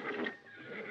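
A horse neighs in a short, mid-loud whinny with a wavering, breathy pitch that fades slightly toward the end. No one speaks over it.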